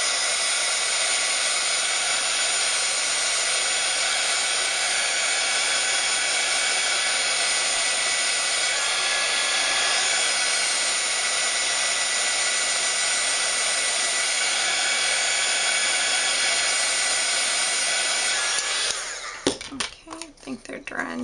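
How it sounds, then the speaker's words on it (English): A handheld heat tool blows hot air over craft pieces, a loud, steady whooshing drone that runs unbroken for about nineteen seconds before clicking off into handling noises. "Then I'm going to get my heat tool."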